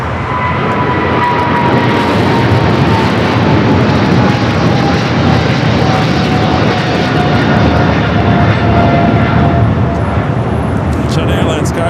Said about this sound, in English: 777 freighter taking off 25 at left